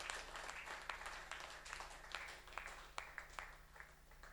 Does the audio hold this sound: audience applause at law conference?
yes